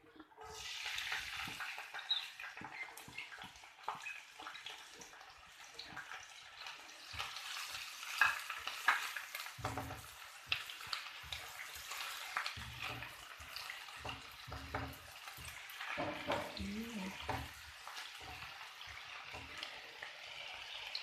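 Onions sizzle and crackle in hot oil with intermittent stirring and scraping, a steady moderate frying hiss that runs for the whole stretch, with no one speaking.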